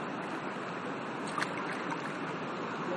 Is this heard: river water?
yes